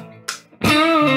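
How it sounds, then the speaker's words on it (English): Electric guitar run through a simulated drive pedal on a Spark amp dialed toward a Fender Twin tone, with a short picked note, then a loud sustained distorted chord ringing thick with harmonics. "That's going to add some simulated distortion"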